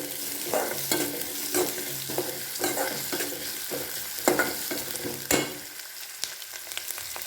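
Onion and green chili being stirred and sautéed in a pan, with a steady close sizzle broken by repeated scraping stir strokes, quieting toward the end.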